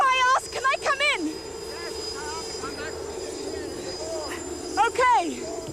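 A helicopter drones as a steady, moderately loud engine hum beneath excited overlapping voices and shouts.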